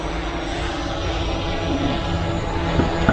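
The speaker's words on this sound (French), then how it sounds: "quand je vais avancer le drone" A DJI Air 3S drone flies forward with a steady, dense propeller whir and motor hum, loud and close, rising slightly toward the end.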